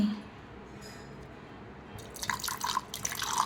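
Water splashes and trickles into a glass holding basil seeds, starting after a quiet stretch and growing louder and busier toward the end.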